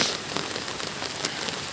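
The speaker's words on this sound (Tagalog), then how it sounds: "Nakikita nyo naman po, maulan. Nakapayong po tayo." Steady rain on a wet day in the countryside, a dense close patter of drops hitting surfaces, continuous and even with a few sharper individual drops.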